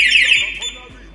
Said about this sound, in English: I'm gonna check the alarm system.